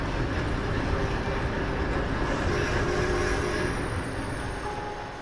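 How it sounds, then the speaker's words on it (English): A train in Red Dead Redemption 2 sits near the town of Valentine, giving a steady, dense rumble of rolling cars that carries on alone and eases slightly toward the end. "what a time for the train to park there"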